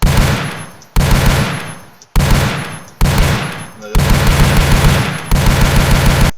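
Minigun fire and exploding barrels in an Unreal Engine 5 Doom-style shooter game: loud, dense bursts of rapid gunfire with heavy booms, cut into several abrupt segments that each decay before the next starts.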